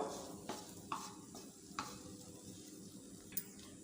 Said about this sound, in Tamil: எண்ணெயில் வந்து இந்த பெருங்காயம் பொரியட்டும்